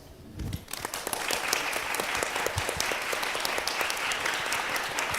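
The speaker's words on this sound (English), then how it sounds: "Please stand so we can give you applause." Audience applause at a youth leadership conference as a guest stands, steady dense clapping building after a brief pause and continuing loud and even throughout.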